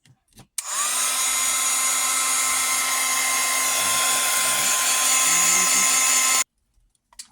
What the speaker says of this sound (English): now that we have that stained on both sides, I'm going to dry it